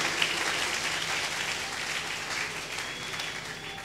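A church congregation applauds and cheers in a steady, dense wash of clapping that holds throughout and fades slightly at the end, with no speech over it.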